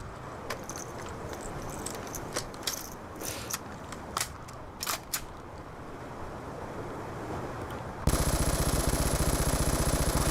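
In a video game, a light machine gun is reloaded with a string of sharp metallic clicks, clacks and rattles over a low rumbling background, then a loud steady mechanical buzz suddenly takes over near the end.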